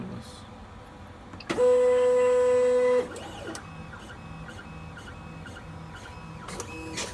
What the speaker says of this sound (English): Let's print the first one, the one that was printing before.